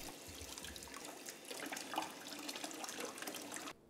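Frog legs are rinsed under a running tap at a sink, a steady, faint hiss and splash of flowing water that continues for several seconds before cutting off abruptly.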